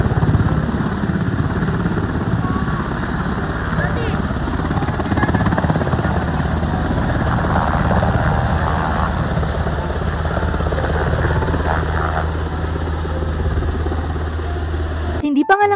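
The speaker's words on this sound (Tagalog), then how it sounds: "meron ngang lumanding na helicopter" A helicopter lands and idles at Manila Ocean Park, a loud, steady rotor and engine roar that continues throughout, with voices talking faintly beneath it.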